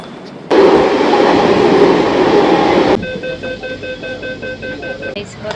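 A moving metro train with a loud, steady rumble and rush that drops partway through into a quieter hum with a high whine. Talking can be heard over it.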